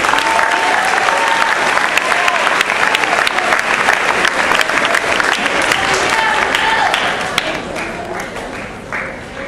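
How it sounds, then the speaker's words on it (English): A school anniversary audience applauds the Student Council President with loud, dense clapping that holds steady for about seven seconds, then tapers off toward the end. Crowd voices and a speaker can be heard under the clapping. "nice round of applause for our Student Council President"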